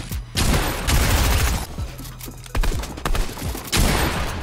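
Dense, loud Fortnite gunfire, a rough barrage of overlapping shots and booms that goes on with short pauses, close and alone with no talk.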